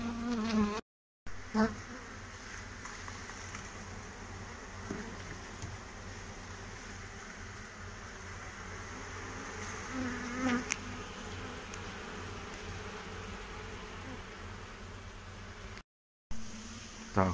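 Honeybees buzz around an open beehive during a spring inspection in the Vysočina region, a dense, continuous drone close by with a few faint handling knocks.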